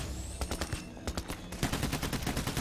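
Rapid gunfire in Payday: The Heist during a co-op police shootout, a dense fusillade of overlapping loud shots in quick irregular succession, close and continuous for a few seconds.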